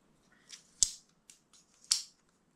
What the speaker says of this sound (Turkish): Şuradaki kilit mekanizmasına bastığımızda, arkadakine de yine aynı şekilde bastığımızda makası katlamış oluyoruz.